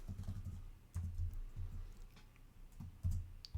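Fingers type code on a computer keyboard in quiet, soft bursts of clicking keystrokes with short pauses between runs.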